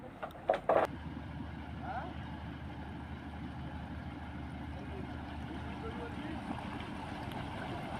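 A boat motoring along a river in the Sundarbans on a winter morning, its steady engine drone running continuously beneath wind and water noise, with a few brief knocks near the start.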